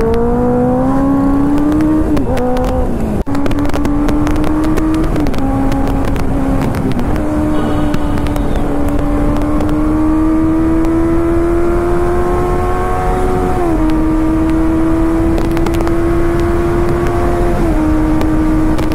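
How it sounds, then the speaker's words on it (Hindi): A Royal Enfield Bullet motorcycle thumps steadily through a group ride on Independence Day, its engine loud and close, the pitch rising and dropping with gear changes over continuous road and wind noise. "आलोक मेरा है ना बुलेट लेके चला रहा है"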